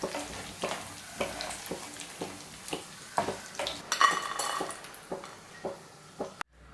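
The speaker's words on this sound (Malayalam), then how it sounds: "നമുക്ക് എല്ലാം ഇതുപോലെ തന്നെ ഫ്രൈ ചെയ്തെടുക്കാം" Cauliflower pieces fry in hot oil with a steady sizzle, punctuated by regular clinks and scrapes of a utensil against the pan, close and moderately loud, no talking.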